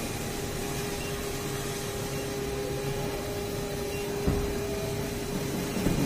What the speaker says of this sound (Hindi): वैक्यूम चालू हो गया